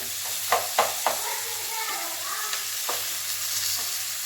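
Tomatoes with ginger garlic paste sauté in a pan with a constant low sizzle, while a spatula scrapes and taps a few times, clustered early and then more sparsely.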